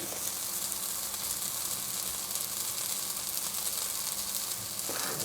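Olive oil sizzles and hisses steadily in a frying pan, a continuous close crackle with no talking.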